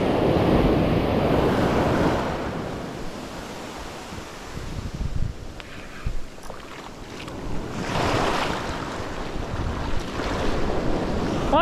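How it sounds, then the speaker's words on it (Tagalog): Small ocean waves wash and break steadily around a boat off Dinapigue, Isabela, with gusty wind buffeting the microphone and loud surges of surf at the start and end. "May alon ulit. Kaya lang, maliit."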